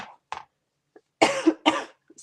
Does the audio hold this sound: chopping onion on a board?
no